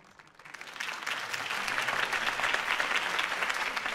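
Crowd applause from an in-game campaign rally for Harvey Dent in Batman: The Telltale Series, swelling after a faint start into steady, dense clapping that holds for several seconds without speech.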